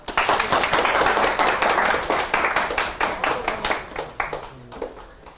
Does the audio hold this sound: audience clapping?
yes